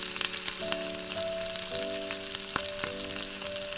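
Coarsely cut onions sprinkled with salt fry in a pan for chili chicken, giving a continuous gentle sizzle punctuated by a few sharp clicks, with a steady hum in the background.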